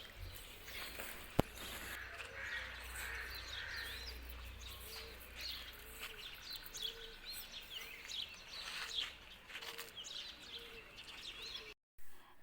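Small birds twittering and chirping steadily through a quiet village morning as millet grain is scattered for them, with faint cooing and a soft background hum throughout.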